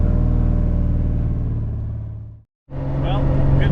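A car engine runs steadily while driving at about 28 degrees, a loud, close droning hum that cuts out briefly and then resumes.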